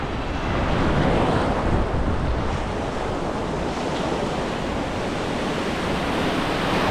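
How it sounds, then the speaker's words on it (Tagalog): Steady, loud roar of ocean surf crashing, continuous broadband wash with some wind buffeting the microphone, no voices. "Grabe humampas ang mga alon."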